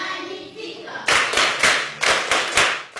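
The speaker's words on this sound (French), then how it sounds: "vous l'acclamez aussi?" An audience claps in loud, rhythmic bursts, about seven distinct beats in quick succession, starting after a brief stretch of speech.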